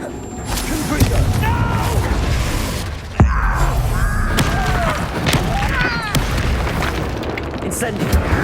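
Fiery Confringo spell blasts from the Hogwarts Legacy video game, a series of booming explosive bursts with a sharp loud impact in the middle, mixed with battle noise and someone talking over it.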